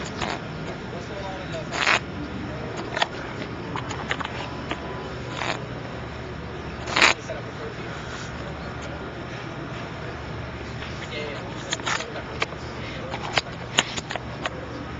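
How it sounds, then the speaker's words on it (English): Players shuffle cards between games at a Magic Pro Tour event in Honolulu: a steady stream of soft riffles and sharp card snaps, with occasional louder clacks, over the low murmur of a busy hall with voices in the background. "Game 3 between Craig Jones and Olivier Ruel while these guys shuffle up for Game 4"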